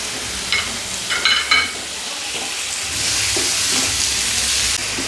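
Boneless chicken cubes sizzle and fry in hot oil in a pan while being stirred. The hiss is loud and steady, with a few scraping stir strokes near the start and the frying growing louder partway through.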